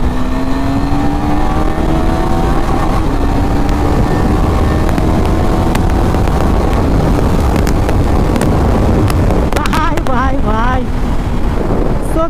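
A Suzuki Gixxer SF 150 motorcycle engine accelerates through the gears in a road race, a steady rising drone under heavy wind noise, with someone talking throughout.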